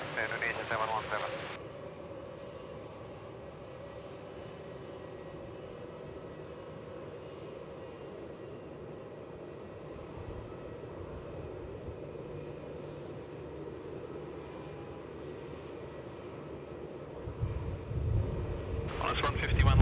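An airliner takes off from runway 27 at Melbourne Airport, its engines a steady distant roar that swells toward the end, with air traffic control radio chatter at the start and close by.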